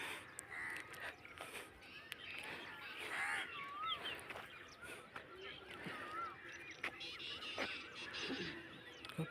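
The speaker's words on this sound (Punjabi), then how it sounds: "ਪੰਛੀਆਂ ਦੀ ਆਵਾਜ਼ ਸੁਣੋ ਤੁਸੀਂ" Several birds call and caw intermittently at a distance, scattered squawks over a quiet outdoor background with faint low murmur.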